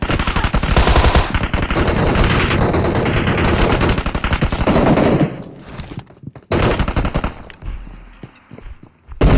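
Rapid automatic gunfire in the mobile battle-royale game PUBG Mobile rattles loud and continuous for about five seconds, then gives way to scattered shots and bursts amid quieter game sounds.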